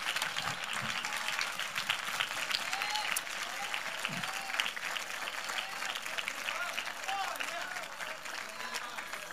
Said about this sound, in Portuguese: os que desejarem, aplaudam ao Rei dos Reis